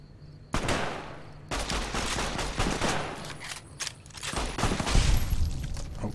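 Gunfire in Fallout New Vegas: loud bursts of rapid shots, a sharp onset followed by sustained volleys with brief pauses, close and dense, no talking.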